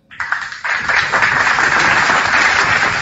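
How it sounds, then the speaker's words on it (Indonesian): A crowd at a religious talk breaks into loud, sustained applause, many hands clapping in a dense wash that starts abruptly and holds steady to the end. "Tepuk tangan yang meriah."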